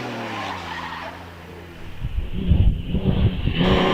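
Vintage sports car at a Prescott hill climb, tyres squealing and skidding as it warms them, the squeal rising with a revving engine toward the end, fairly close.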